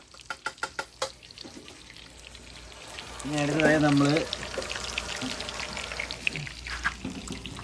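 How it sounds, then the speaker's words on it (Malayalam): Camel meat fry being stirred in a pan: a few sharp knocks open, then wet sizzling and scraping with a brief watery pour-like surge, while a voice speaks over it. "അടുത്തതായി നമ്മള് ഇളക്കി കൊടുക്കുവാണ്"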